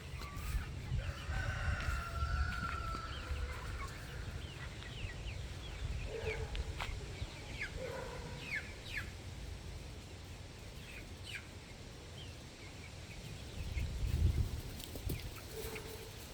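Backyard rooster with a flock of baby chicks outdoors: several short crowing and clucking calls rise over steady low rumble, with faint chirps scattered throughout.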